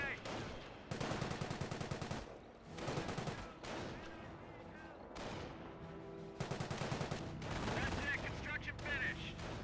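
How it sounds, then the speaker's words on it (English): An MMG carrier machine gun fires in Company of Heroes, letting off repeated bursts of rapid automatic gunfire separated by short pauses, with other battle noise mixed in. "MMG carrier firing away."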